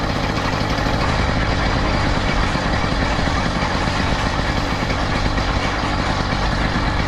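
A Cranbrook motorcycle with a motor still being broken in idles with the brake on, a steady close rumbling putter holding an even rhythm for several seconds with no voices.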